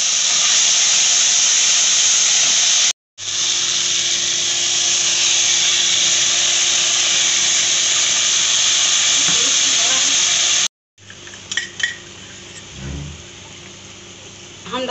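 Ginger, tomato and spice paste hitting a hot pan with cumin for a Bengali tilapia curry, a loud steady hiss that breaks off twice, then quieter sputters and pops.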